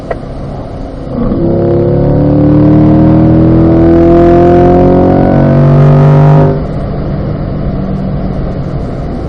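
A car on a race track at a performance driving school accelerates hard, its engine note rising loudly through the revs for several seconds before easing off, close and dominant.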